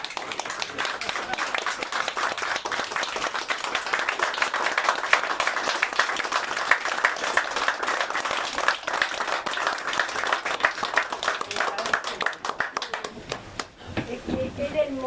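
Audience at a March 8 community forum in a cultural centre, standing and applauding warmly: dense, sustained clapping from many hands, loud and steady before fading out at the end, with faint voices underneath.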